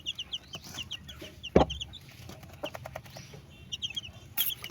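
A hen clucks softly in repeated short calls alongside the high, thin peeping of her newly hatched chicks, with one louder sharp burst partway through, outdoors among other chickens on a backyard farm.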